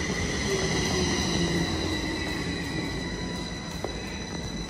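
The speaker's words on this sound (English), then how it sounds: "That's the train going to the other side." A train in Zurich passing on the far track, a steady loud rolling rush with high wheel squeal tones running through, fairly close and continuous, no voices.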